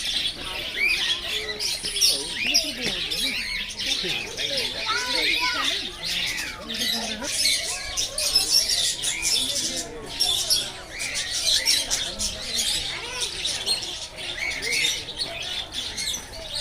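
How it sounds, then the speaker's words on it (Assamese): Assorted small birds chirp, tweet and squawk continuously in a zoo aviary at the Assam State Zoo, a dense overlapping chorus of near and distant calls with occasional voices in the background. "ইমান ধুনীয়া এটা পৰিৱেশ, ইমান ধুনীয়া চৰাই মাত আৰু বিভিন্ন ৰকমৰ চৰাই চাক মাত"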